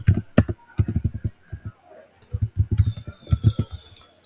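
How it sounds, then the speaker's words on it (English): Bursts of typing on a computer keyboard, close and crisp, come in quick clusters of key taps separated by short pauses. "Let me just type everything."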